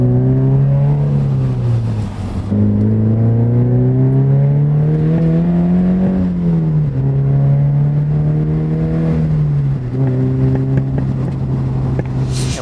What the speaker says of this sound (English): one thing I love about this exhaust is that there's like very minimal drone